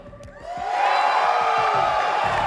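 A large arena crowd of esports fans at DreamHack Masters Dallas 2019 roars and cheers, the noise swelling within the first second and holding at a loud, sustained level.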